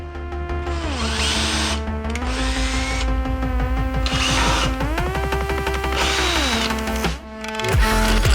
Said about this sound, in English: We might pre-drill instead.